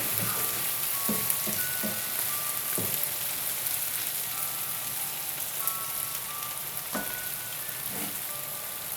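Dried loitta fish and potatoes sizzle softly in a pan, with a steady frying hiss and several light scraping knocks of a spatula stirring and turning the pieces, no talking.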